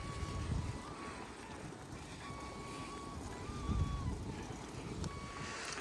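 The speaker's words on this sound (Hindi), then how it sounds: "खेत में आके बहुत ठंडी ठंडी हवा चलती है, क्योंकि सारा एरिया खुला है ना, तो इसलिए बहुत हवा चलती है" Cold wind blows steadily across an open farm field in the morning, a broad continuous rumble and rush buffeting close to the microphone, with faint tonal hums drifting in the background throughout.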